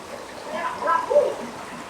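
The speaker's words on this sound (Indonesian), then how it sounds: "Ini kan sungai dari sana nih teman-teman. Sungai ini gede banget." Water from a large river, recently swollen by a flash flood, rushes and trickles in a steady close wash, with no talking heard.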